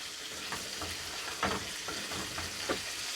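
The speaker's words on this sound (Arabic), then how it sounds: "وتفضلي تقلبي فيه كده كتير" Rice being stirred and sautéed in a pan, with a steady close sizzle of frying broken by repeated scraping stir strokes at an uneven rhythm, no voices.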